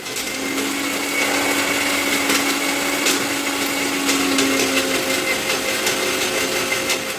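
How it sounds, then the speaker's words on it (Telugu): A mixer grinder runs continuously, blending strawberries with milk, ice cream and dry fruits into a restaurant-style milkshake, a loud, steady, close whirring drone for the whole stretch with no voices. "ice cream dry fruits milk strawberries ఇవే వేసుకొని మిక్సీ చేసుకున్నానండి"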